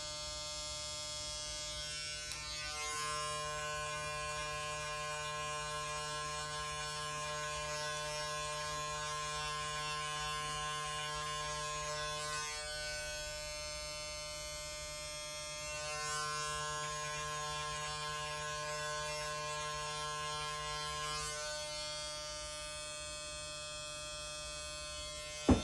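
Electric hair clippers buzz steadily and close up while cutting a high taper fade, a continuous hum that shifts pitch slightly as the blade moves through hair, with no voices.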